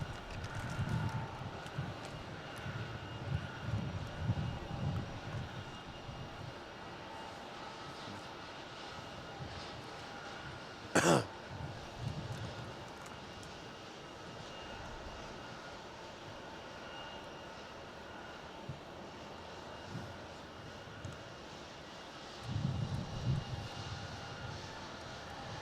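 A Qantas airliner departs Melbourne Airport, its engines a steady distant roar and rumble across the whole stretch, with wind noise on the microphone and a brief sharp tone partway through.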